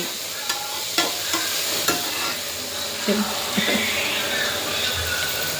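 Big onions and curry leaves frying in oil after ginger and garlic for a chicken curry, a steady broad sizzle with scattered stirring knocks and clinks from the spoon, close and moderately loud, with no talk.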